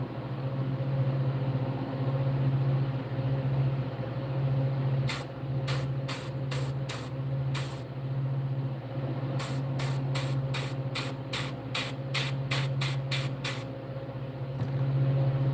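Short hissing bursts of an airbrush spraying paint onto a largemouth bass fishing lure, in irregular clusters over a steady low compressor hum, with no talking.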